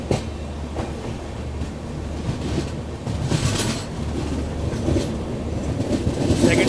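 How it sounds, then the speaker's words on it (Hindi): A passenger train pulled by a WAP7 electric locomotive rolls along the rails on the New Delhi to Barauni route, with steady rumbling and rhythmic clickety-clack wheel noise heard up close from a carriage, growing slightly louder toward the end. "ये देखिए WAP7 है भाई ट्रेन को लीड करता हुआ आगे"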